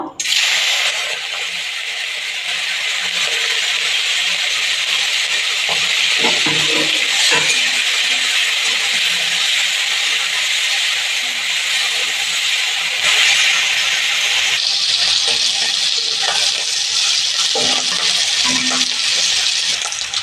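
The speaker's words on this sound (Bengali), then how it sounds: "চিংড়ি মাছগুলো আমি ভেজে নেবো" Prawns coated in salt and turmeric fry in hot oil, a loud, continuous close-up hiss with scattered crackles and pops lasting the whole stretch, no voices.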